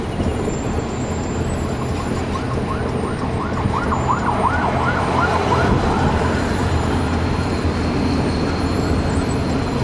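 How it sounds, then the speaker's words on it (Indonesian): An ambulance siren wails with a rising and falling tone amid steady traffic rumble, moderately distant, continuous throughout. "Ada ambulan masih jalan."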